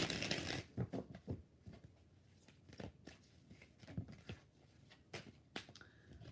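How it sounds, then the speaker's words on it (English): Tarot cards being shuffled by hand, a series of close, crisp riffling and snapping bursts separated by short pauses, quiet overall. "One more shuffle."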